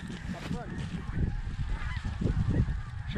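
Geese honking repeatedly during a goose hunt with dark and snow geese, a noisy flock of calls layered over steady field noise, with some faint talk mixed in.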